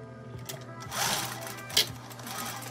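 A sewing machine stitches a dart in an A-line skirt, a quiet mechanical whir in short bursts with a small clack near the end.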